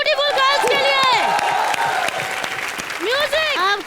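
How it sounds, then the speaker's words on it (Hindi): A studio audience at a live TV comedy show claps and cheers loudly, with whoops and shrill shouts rising over sustained applause and a voice on the sound system cutting in near the end. "एक बार जोरदार तालियां ब्यूटीफुल गर्ल्स के लिए।"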